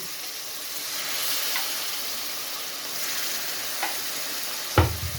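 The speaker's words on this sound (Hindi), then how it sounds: "थोड़ा सा ओजरी वाला पानी इसमें ऐड कर देंगे।" Steady sizzling and hissing from a hot pan as goat-intestine cooking water is added to ojri curry, with a light clatter of stirring and a sharp knock near the end.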